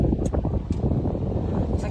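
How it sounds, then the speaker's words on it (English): Steady wind roars and buffets across the microphone on a golf course, a constant low rumble with gusty rustling throughout. "Still windy outside"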